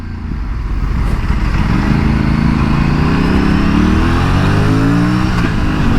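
An Aprilia RS 457 sport motorcycle is ridden at speed, its engine droning loud and steady with pitch rising and falling through gear changes, mixed with heavy wind rush.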